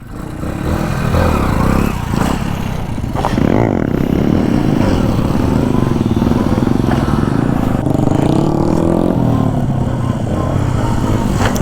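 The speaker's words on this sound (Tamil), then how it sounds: "இப்போ நல்லா கொடுக்க பார்க்கலாம். ஆக்சிலேஷனில் வண்டி வந்துக்கிட்டே இருக்கும்." A motorcycle accelerates through a wheelie, its engine droning loud and close with rising revs, gear shifts and wind buffeting throughout.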